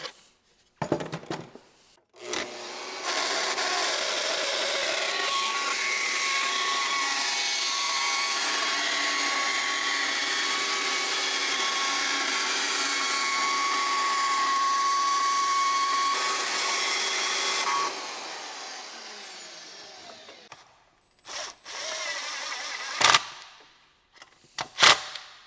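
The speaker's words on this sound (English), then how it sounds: "I'm going to try to do it with my little bandsaw." Small bandsaw cutting a metal heat shield from a Miata turbo kit, a steady loud whining hum with blade buzz lasting about fifteen seconds, with clunks and handling noises before and after.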